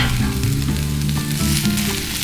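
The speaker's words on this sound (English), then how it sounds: "You can hear the sizzle on the skillet." Venison from a Nebraska deer sizzling in a hot skillet, a steady, loud, close crackle and hiss with occasional stirring or scraping sounds and no voices.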